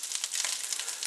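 Pork balls fry in a pot, a quiet bright sizzle with rapid little crackles throughout.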